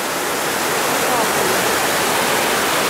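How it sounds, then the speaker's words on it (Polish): A waterfall in Norway roars as a steady, dense rush of falling water, loud and close, with no break or variation. "A obok drugi wodospad."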